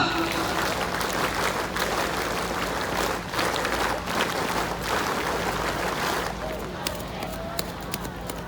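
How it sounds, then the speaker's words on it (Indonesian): A large Scout gathering in a sports hall claps the rhythmic Pramuka clap, a dense steady patter of many hands that fills the space for several seconds, with a voice over a loudspeaker mixed in. "Dua kali tepuk Pramuka"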